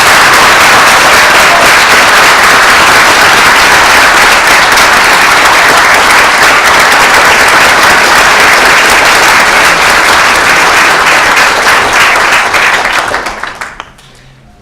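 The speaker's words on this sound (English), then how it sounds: "Ought to give them a round of applause." Sustained, dense applause from a large audience at a moot court final round, loud and steady for about thirteen seconds before tapering off abruptly at the end.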